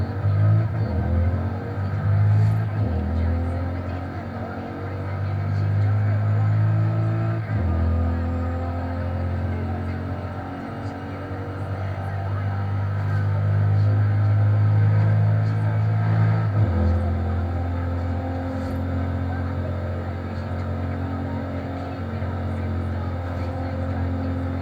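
A car engine drones in a driving video game, a low steady rumble that swells and drops as the car accelerates and eases off, with a few brief shifts in pitch.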